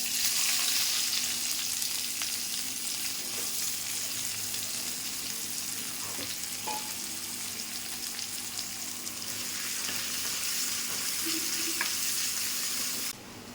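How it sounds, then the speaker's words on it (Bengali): Onion frying in hot oil with black cumin, left over from frying prawns, gives a steady, close, bright sizzle with a few light stirring clicks throughout, then a sudden drop near the end, with no talk. "ওই তেলে আমি দিয়ে দেবো কালো জিরে, এর মধ্যে দিয়ে দেবো পেঁয়াজ"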